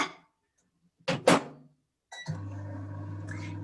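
A microwave oven melting chocolate: a brief clunk and clatter of handling, then the oven starts and hums steadily at close range with a low drone, no voices.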